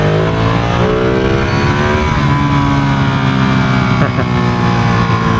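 A Ducati Streetfighter motorcycle fitted with Dunlop Q5 tires roars loudly at speed, its engine note rising and falling in smooth harmonic sweeps, close and steady, with wind noise underneath.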